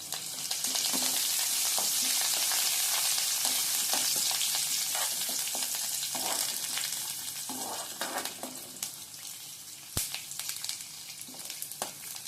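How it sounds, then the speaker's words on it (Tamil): Crushed spices and curry leaves frying in hot oil for a prawn fry, a loud, bright crackling sizzle that eases after several seconds into sparser pops and spatula scrapes, with one sharp knock near the end. "நம்ம தட்டி வச்சுருக்கிறது அதில் நல்லா பொரியட்டும்"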